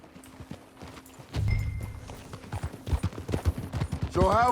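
Horse hooves clip-clop in a steady, rhythmic gallop while riding in Red Dead Redemption 2, loud and close, with a whinny-like tonal cry near the end and some faint background speech.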